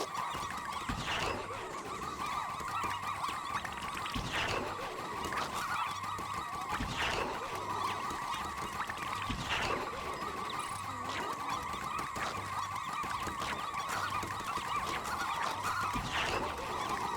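Birds in the video game Pikmin 4, with repeated gobbling, honking fowl-like calls recurring at regular intervals over a steady electronic background hum.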